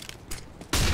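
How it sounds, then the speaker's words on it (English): Flashbang grenade going off in the game CS:GO, a sudden loud broadband burst near the end after quieter rumbling and clicks. "Grenade out! Throwing flashbang."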